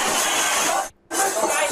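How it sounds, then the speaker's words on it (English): Window glass shattering during a police confrontation at a home, a loud burst of bright, crunching breakage that stops sharply for a moment and then resumes, with speech in the background. "A window shatters."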